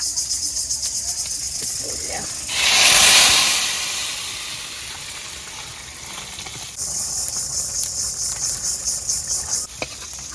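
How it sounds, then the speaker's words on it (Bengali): Hot tempering of fried onion and garlic in oil poured into dal gives a sudden loud burst of sizzling hiss that swells and fades over a couple of seconds, set against a steady background of chirping insects. "ফোড়ন হয়ে গেছে, বাগার দিয়ে দেই।"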